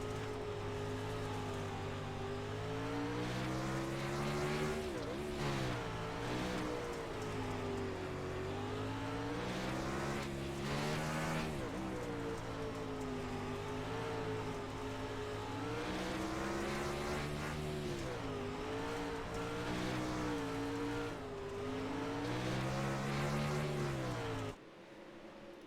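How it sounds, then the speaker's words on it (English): Sprint car engine on a slick dirt track at Limaland in a DOB 360 Sprint Car Series race. It gives a loud, continuous roar that rises and falls as the throttle is worked on and off, then cuts off abruptly at the end. "Listen to the throttle control,"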